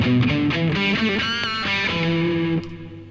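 Long self-oscillating reverb from an Afterneath effects pedal with the length turned all the way up: sustained, swelling tones with shifting pitches and a distorted, ringing wash that holds loudly, then drops away near the end.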